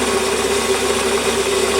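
A Warco metal lathe runs while facing off a small register, giving a steady whirring hum with a sustained tonal whine and no breaks or talk during the short stretch.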